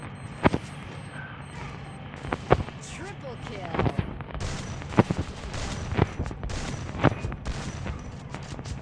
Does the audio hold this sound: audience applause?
no